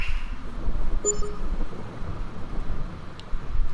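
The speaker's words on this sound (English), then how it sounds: "Yeah, you thunder and rumble." Low rumbling thunder from a storm in Farming Simulator 22, a continuous broadband roar with rain-like hiss that swells and ebbs, steady and fairly loud with no talk.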